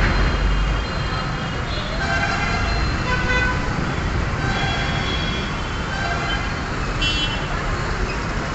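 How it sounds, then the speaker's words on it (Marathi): Road traffic with vehicle horns tooting from nearby, a constant loud engine and road rumble under repeated short honks spread through the scene. "काय गरज आहे का हॉर्न द्यायची"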